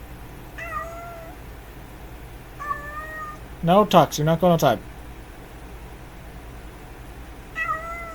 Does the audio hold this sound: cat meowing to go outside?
yes